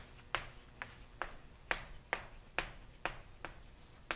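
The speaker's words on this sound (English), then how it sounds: "I'm writing the rate of change of salt when I mean pounds of salt" Chalk or marker strokes on a classroom board while writing a differential equation about salt in a tank, about nine short scratchy taps at a steady rhythm, close and clear, with no one talking.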